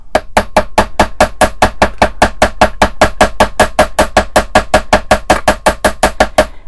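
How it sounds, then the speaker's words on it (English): A hammer taps repeatedly on the curved end of a para wire loop being shaped for a pendant, giving a fast, steady run of sharp metallic knocks, loud and close, with no talking. "I'm going to pull out the hammer and just hammer the curved end of it so that it holds its shape"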